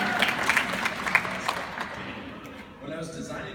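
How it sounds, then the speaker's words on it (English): Audience applause at a university speech, a burst of clapping that fades out over a couple of seconds as a voice begins speaking near the end. "Can I get a round of applause?"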